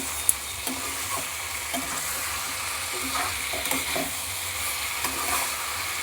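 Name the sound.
potatoes and cauliflower stir-fried with spices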